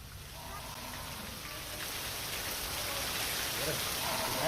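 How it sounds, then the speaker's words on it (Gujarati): Steady rain falls in Dayapar Khanai, Lakhpat, in Kutch, a dense even hiss of drops on surfaces that grows slightly louder over the few seconds. No voices are heard over it. "કચ્છના લખપતના દયાપર ખાનાઈમાં વરસાદ વરસ્યો છે"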